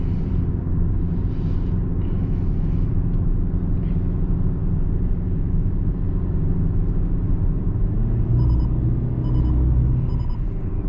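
A 2020 Hyundai Tucson SEL with a 2.4L engine labors up a mountain road, its steady deep rumble droning loud and unbroken from start to finish, with faint high chimes near the end.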